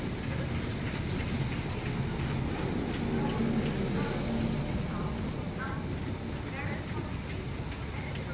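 A train at Paignton station, with an HST power car numbered 43 on the rear, produces a loud, continuous engine rumble and hiss with faint rail clatter, heard close; a voice talks over it.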